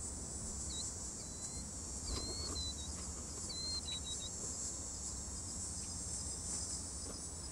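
Steady, continuous cricket chirping fills the night air, with a few higher, brief insect or bird notes drifting in and out at a distance.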